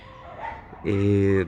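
A dog nearby gives a short, whining bark-like cry after a man's brief spoken sound, loud and close in a home setting.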